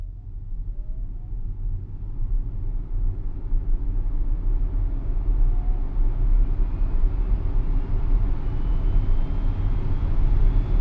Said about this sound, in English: And here's the sound of the induction motor.